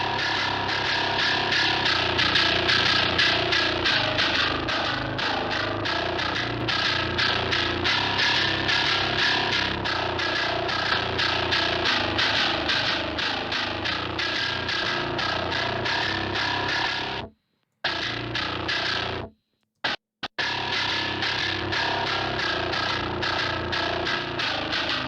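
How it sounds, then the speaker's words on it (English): A heavily distorted, gritty metal guitar riff with a saturation plugin applied plays loud and continuous, with brief dropouts of silence near the end. "I'm gonna just throw HEATwave on the grit track and really amplify this"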